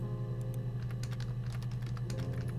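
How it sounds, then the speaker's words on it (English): Keyboard typing during the video game Her Story: a steady run of quick key clicks, close and clear, over a constant low hum with no talking. "Now I'm just typing in keywords that I have in my notepad."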